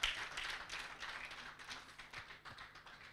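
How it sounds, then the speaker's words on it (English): An audience at a broadcasting anniversary event applauds for a woman, a soft, distant, fairly thin patter of clapping lasting a few seconds with no voices over it. "If you want to clap for a woman, you do it very well"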